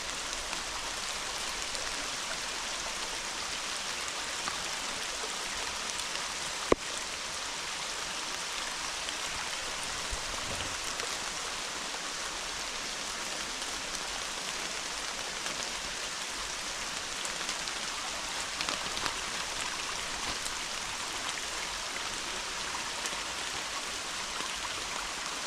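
Steady rain falls on an outdoor walk through briars and blackberry brambles, a continuous dense hiss of drops with no talk over it.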